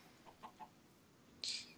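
Blocky chickens in the video game Minecraft give a few short, soft clucks spaced apart, followed by a brighter, louder squawk near the end, all at low level with no talk.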